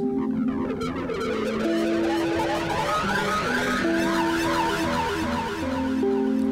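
An electric guitar rocked through a wah pedal, its tone sweeping open and closed over ringing notes, steady and moderately loud without any voices.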